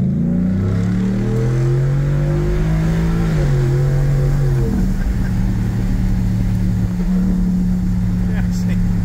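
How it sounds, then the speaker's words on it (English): A 400 horsepower car engine revving hard, pitch climbing through gears and settling into a loud steady drone heard from inside with the window down, a voice speaking over it. "not too shabby for a 400 horsepower motor"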